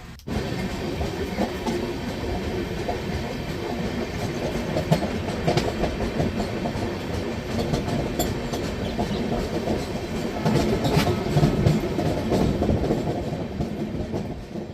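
Banaras–Hubballi Weekly Express 17324, heard from a first AC coupe near Manmad Junction, rolls along with a steady, continuous rumble and rhythmic clickety-clack of the rail cars for the whole stretch, with no voices.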